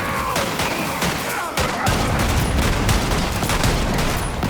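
Dense, loud gunfire from the video game Borderlands 3, a continuous barrage of rapid shots and crashing impacts that fills the whole stretch with hardly a pause.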